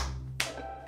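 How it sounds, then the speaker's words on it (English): Two quick, soft hand claps land about half a second apart in a quiet indoor room. "Are you making claps?"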